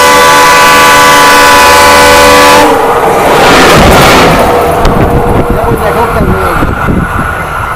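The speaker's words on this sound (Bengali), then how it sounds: "মারাত্মক স্পিডে ট্রেনটা চলে যাচ্ছে।" A train rushes past at high speed beside a busy road in a flood-hit Bangladeshi village, a loud, steady roar with a horn-like tone that drops off into rumbling, rattling wagon noise. Faint voices may be mixed in.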